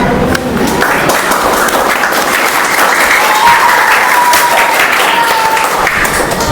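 A large audience applauds loudly and steadily for several seconds, a dense wash of clapping that fills the space.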